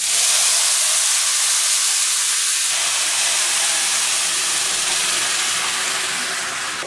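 Four cups of hot water poured onto fried rice in a pot for biryani produce a loud, steady steaming hiss that fills the whole stretch and fades only slightly at the end.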